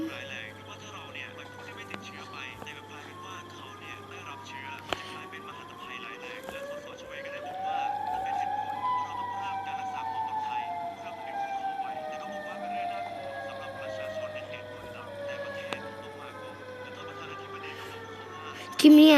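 A Siren Head monster's siren wails across a Minecraft map: a long rising and falling tone with wavering layered pitches, sustained over a steady low hum, with a voice talking now and then.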